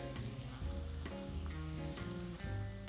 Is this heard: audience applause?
no